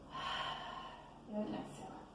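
A deep inhale during a foam roller myofascial release exercise: one long, close, soft breath drawn in through the nose, followed by a shorter second intake of air.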